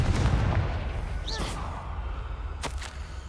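A Confringo spell fires in Hogwarts Legacy, a deep rumbling blast with a whooshing streak, set against a steady low game-ambience drone, followed by a sharp crack near the end.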